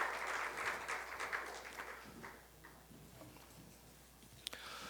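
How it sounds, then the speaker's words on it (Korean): Applause from a church congregation at a Sunday service fades out over a few seconds, dense patter at first and then thinning, ending in a sharp click. "우리 다시 한번 박수로 축복하도록 하겠습니다"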